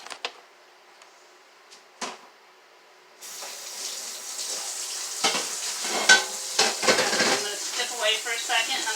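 Stewing beef being rinsed under a running kitchen tap: a few sharp knocks and handling clicks first, then steady water flow with splashes and irregular sloshing bursts as the meat is moved about.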